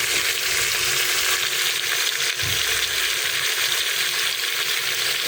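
Mutton sizzles and fries steadily in a pan for Maadu ki gravy and a soft, spicy salan, with a continuous hiss and occasional scraping as the meat is stirred; no one speaks.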